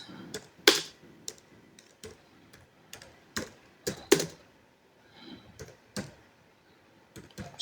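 Typing on a computer keyboard, close and fairly quiet: scattered individual key clicks and short bursts of taps at an uneven pace, with sharper louder strikes now and then and near silence between them.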